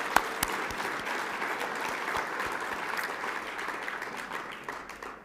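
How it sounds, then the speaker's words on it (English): An audience at the National Lacrosse Hall of Fame induction ceremony breaks into sustained applause, a broad, even roar of clapping with a few sharper near claps, fading slightly at the end. "let's give one more big round of applause for Vin Labello"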